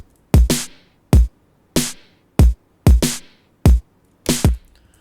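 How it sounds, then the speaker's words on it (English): Punchy layered snare drum, a crisp high-end snare paired with an EQ'd body snare with the low end removed, hitting seven times in a steady groove, sometimes as quick double hits, loud and alone. "But I thought I'd pair it with another layer snare."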